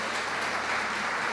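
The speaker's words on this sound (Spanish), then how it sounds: "Dale un aplauso al Señor" Church congregation applauding during a Spanish-language sermon gathering, a dense steady patter of many hands at moderate distance, quiet and even throughout with no speech.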